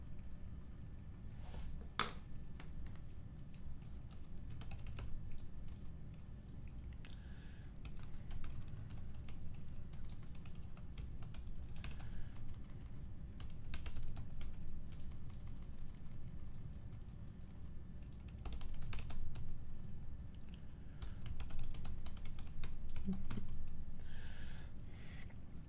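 Scattered light taps of a computer keyboard during a math lesson, faint and irregular clicks spread across a long stretch over a low steady hum, with no talking.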